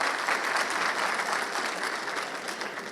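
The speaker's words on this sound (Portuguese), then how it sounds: "vamos aplaudir, vamos aplaudir" Steady, dense audience applause from a crowd at a bakery and confectionery trade fair, continuous and even for the full stretch with no voices standing out.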